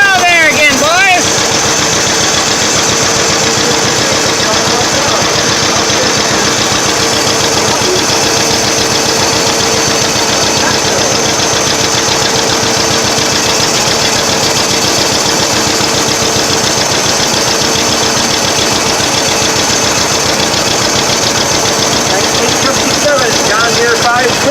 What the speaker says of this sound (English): John Deere 520, 33 horsepower, Richard Dean from Jensen